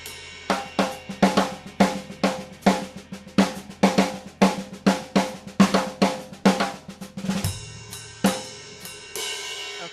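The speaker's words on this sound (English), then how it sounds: "you're going to play all those accents with triplets on the snare." Snare drum playing accented triplets in jazz time, a rapid run of crisp rolling strokes with regular louder hits, close and dry, ending in a few sparser strokes and a ringing decay, with no speech.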